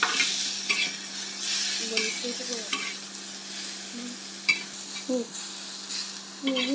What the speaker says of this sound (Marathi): आता हे छान भाजून घ्यायचं